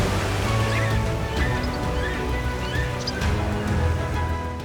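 A river crashes through a gorge in the Amazon rainforest, producing a steady, dense roar of rushing water that continues unbroken and fills the whole scene, with no voices heard.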